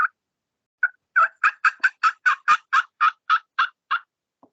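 An imitated wild turkey hen's fly-down cackle: a quick run of about fourteen sharp, clucking notes that speed up and then trail off, loud and close with no talking.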